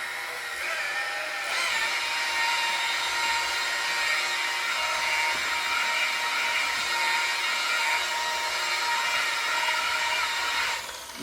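Stone countertop of granite, quartz or marble being buffed with a natural horsehair pad on a power polisher, a steady high whirring motor that starts up and holds loud for about ten seconds, with no talking.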